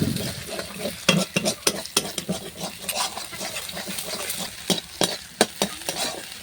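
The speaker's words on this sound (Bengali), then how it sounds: "এরপর দেখুন ডিমটা হালকা হালকা ভাজা ভাজা হয়ে এসছে একদম ভেঙে নিয়েছি ভুজিয়া টাইপের করে নিয়েছি" An egg fries in a pan while a spatula breaks it into scrambled bits, giving repeated sharp scraping and tapping strokes over a continuous close sizzle, with no voices.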